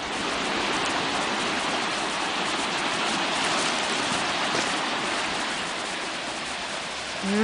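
The fast-flowing Salmon River rushes past in spring, a loud, dense, continuous roar of churning water that stays steady and close throughout.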